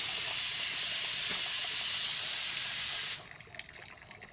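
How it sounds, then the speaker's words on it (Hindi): Mountain water flows into a collection tank with a loud, steady, rushing hiss that cuts off abruptly, leaving quieter ambient sound. "ये जो है पहाड़ों से पानी आके यहाँ इकट्ठा होता है"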